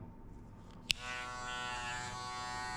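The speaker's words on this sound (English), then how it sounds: "we shave the hair by the 0 gap on the clipper" Electric hair clipper set to a zero gap buzzes steadily during a buzzcut with a mid drop fade, a sharp click switching it on before the close, continuous motor hum holds level to the end.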